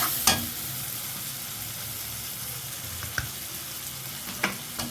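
Cauliflower fries in a pan with garlic just added, giving a steady, close sizzle with a few sharp stirring knocks against the pan and no talking.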